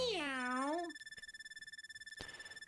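Cat suit character meowing in Super Mario 3D World, a short rising-and-falling cry up front followed by a steady electronic game tone with a light pulsing rhythm, fairly quiet.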